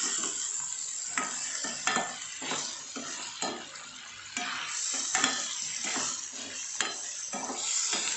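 Vegetables with ginger garlic paste sizzle in a hot pan for a Tamil white vegetable kurma while a spoon stirs them. The frying hiss is steady and close, with repeated scraping strokes against the pan and no talk.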